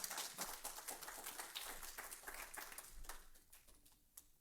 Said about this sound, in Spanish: Le vamos a dar un aplauso para el hermano Patrick en este momento.